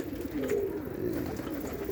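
Pigeons at a loft give a low, steady cooing that carries on throughout, fairly close and alone without any talking.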